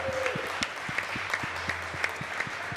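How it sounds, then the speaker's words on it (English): A small pub quiz crowd at The Garrison claps for a contestant, a scattered round of hand claps at moderate distance under a low hum. "Round of applause for Rachel"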